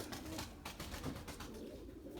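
Young white pigeons in a loft coo softly in low, throaty bursts, faint and close, with rustling around them.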